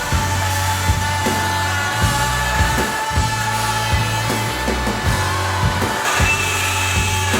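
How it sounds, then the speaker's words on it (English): A Bosch Starlock MultiMax oscillating multi-tool with a carbide blade cutting into a tray, a loud buzzing whine that pulses with short dips and restarts as the blade bites, with no talking. "we're going to give the multi-tool a go with a new blade"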